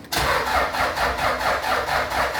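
A Toyota Innova with the 2KD diesel engine cranks and fires, then settles into a loud, steady, close-up diesel run with a regular pulsing rhythm and no talk.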